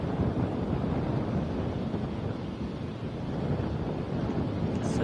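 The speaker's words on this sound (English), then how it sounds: "Says it sounds so windy." Steady, loud wind buffets the microphone with a constant rushing roar, with no voices or other distinct sounds.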